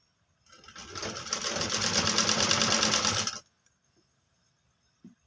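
A sewing machine stitching a buckram-stiffened coat collar onto a kurti starts up, runs in a fast steady burst for about three seconds nearby, then stops, leaving quiet with a faint click afterward.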